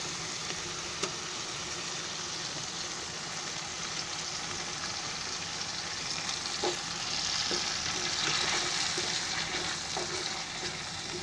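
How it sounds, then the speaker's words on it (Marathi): Tomato and ground mixed masala fry in oil for Maharashtrian potato rice, giving a steady, continuous sizzle with occasional soft stirring knocks, close and even, and no voices. "हे असं चांगलं टोमॅटो भाजून घ्यायचं."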